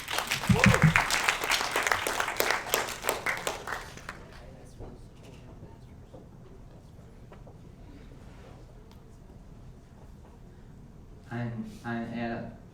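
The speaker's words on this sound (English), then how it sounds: "Can you give us a round of applause?" Brief burst of audience clapping at a summer camp award dinner for a student group, loud for about four seconds and then fading into quiet room noise before a voice begins speaking near the end.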